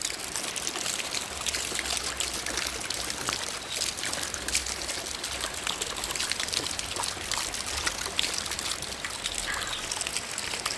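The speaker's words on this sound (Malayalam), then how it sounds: "ഇതാട്ട വെള്ളം ഇങ്ങനെ വന്നുകൊണ്ടിരിക്കുകയാണ്." Rainwater runs and trickles in a steady, dense stream close by while someone washes their face in it outdoors. The water sounds continuous and fairly loud, with scattered splashes and drips throughout and no talking.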